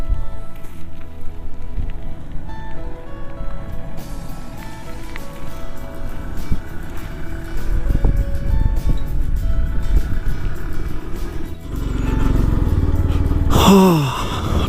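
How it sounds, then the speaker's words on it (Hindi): Yamaha FZ-X motorcycle ridden through desert terrain near Pangong Lake in Ladakh, with a steady engine drone and heavy wind rush throughout, then a brief rising rev near the end. "डेजर्ट में बाइकिंग यामाहा FZX के साथ"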